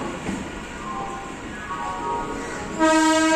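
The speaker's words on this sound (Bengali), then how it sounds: "এই ট্রেনটা কোথেকে আসছে কাকা? তারকেশ্বর।" A local train from Tarakeswar rumbles past on the Howrah line, its wheels clattering steadily, then a loud, sustained horn blares close by near the end; no voices are heard.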